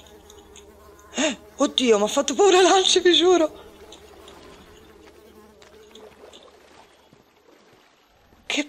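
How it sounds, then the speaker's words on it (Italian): Mosquitoes buzz in a swampy berry-marsh level of the platform game Unravel, a short loud burst of whining wingbeats rising and falling for about two seconds, with someone talking over it in Italian. "Qui c'è la zanzare"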